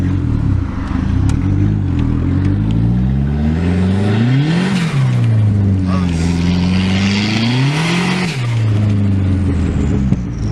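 Turbocharged Mazda Miata engine revving hard in repeated loud, close pulls, rising and falling in pitch, with turbo flutter between revs and voices talking faintly underneath.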